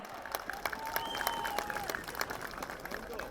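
An audience at an outdoor Christmas concert in Masis claps in a lively burst of applause, with many distinct hand claps and a faint whistle rising above the crowd.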